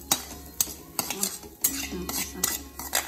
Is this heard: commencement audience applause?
no